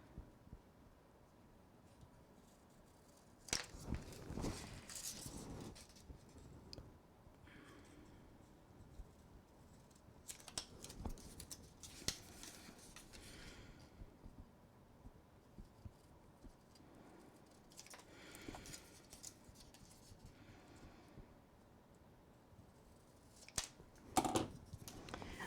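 Scissors cutting paper corners, a few quiet snipping and rustling sounds spaced irregularly against a faint, near-silent room background, with no speech.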